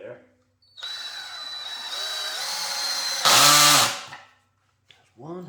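A power drill whirs steadily as it drives a screw into wood, then revs in a louder, higher burst before stopping. A second short spin-up follows after a pause, with a voice briefly heard at the start.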